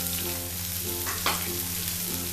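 Garlic cloves and chopped onion sizzle steadily in hot oil, a dense, close frying hiss with a brief stirring scrape partway through.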